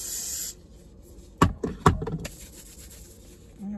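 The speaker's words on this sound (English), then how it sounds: "spray my gloves" Two quick, sharp sprays of disinfectant onto gloves hiss close by, with faint rustling and handling noises around them and a soft hiss at the start and end.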